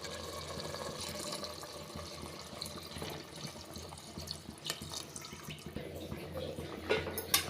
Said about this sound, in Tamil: இந்த அளவுக்கு வதங்கினதுக்கப்புறமா நம்ம இப்போ தண்ணி சேர்த்துடலாம்.